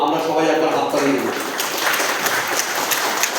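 Audience applause for a first-prize winner at a parents' worship gathering, a dense, steady patter of many hands clapping throughout, fairly close, with a voice speaking at the start.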